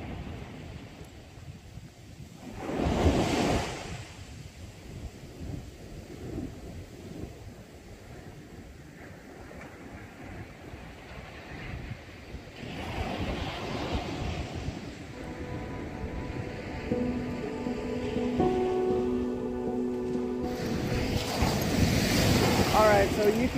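Surf rolling in along the shoreline at Holden Beach, North Carolina, a steady wash of broken waves with wind buffeting the microphone, continuous throughout with occasional louder surges and a person talking over it.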